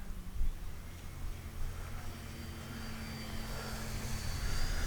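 Tower Hobbies DHC-2 Beaver RC model airplane in flight, its small engine a steady, moderately distant drone that swells slightly toward the end, heard alone without talk.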